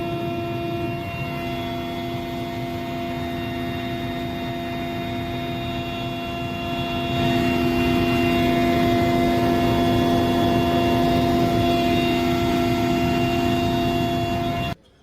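Helicopter flying over the landslide-hit area of Wayanad, Kerala, a steady loud engine and rotor drone with sustained tonal whine throughout, swelling louder about halfway through and cutting off abruptly at the end, with no voices.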